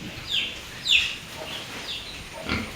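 Faint pig grunts and a few short high squeals come from a distance, scattered over a quiet farmyard background.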